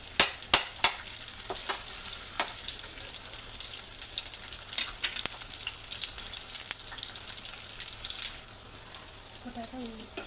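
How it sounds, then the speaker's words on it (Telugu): Onions, cumin and mustard seeds frying in oil in a pan for a potato fry, a steady bright crackle and sizzle with sharp spattering pops at the start and light utensil scrapes near the end. "పొటాటో ఇలా వేరే వరకు వేయించుకోవాలి."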